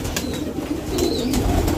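Pet pigeons of Rampuri, Chandakhani and Saharanpuri kaldum breeds coo softly in a loft, low murmuring calls rolling on steadily through the clip with a few faint high chirps overhead.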